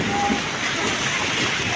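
Heavy rain falls steadily during a bike ride, a dense, constant wash of noise that stays loud and even throughout with no break.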